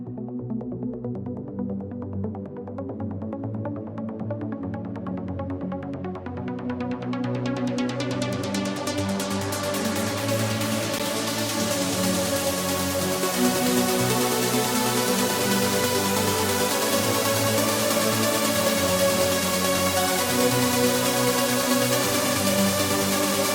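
A dense, sustained trance synth melody that swells as a bright filter gradually opens, building into a full, loud wash of sound with no talking.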